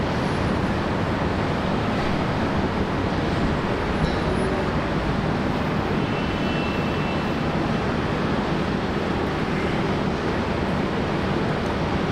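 A Fokker 100 airliner landing at Brisbane Airport, a broad continuous roar of jet and rushing air that holds steady and fairly loud throughout, with no voices.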